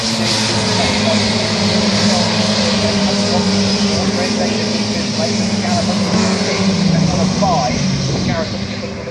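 Classic Mini race cars at Oulton Park circuit in a leading pack, their engines a continuous loud roar throughout, with a race commentator talking over them.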